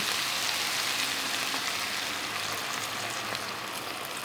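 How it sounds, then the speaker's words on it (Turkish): Water poured into a pot of Turkish meat and vegetable stew with tomatoes, giving a steady hissing sizzle that stays even and close throughout, with no talking. "Biraz su ilave ediyorum."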